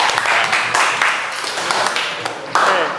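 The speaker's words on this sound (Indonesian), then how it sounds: "Beri tepuk tangan dulu untuk Mas Niko." Applause from students in an automotive engineering classroom, a burst of loose, uneven hand clapping close by, lasting a few seconds with rising and falling intensity.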